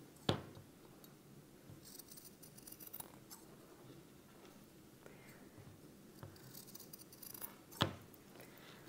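Scissors snipping fabric corners diagonally close to the seam of homemade makeup-remover wipes: a few quiet, scattered cuts against a soft background, with no voices.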